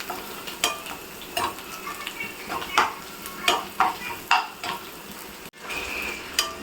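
Green chilies and onions sautéing in a pan for bean butter chicken, a soft sizzle broken by repeated spoon scrapes and clinks against the pan at an irregular pace.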